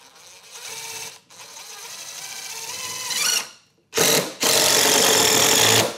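A DeWALT driver whirs as it sinks a Spax Torx 20 screw, two close, loud bursts of motor with a brief stop between them.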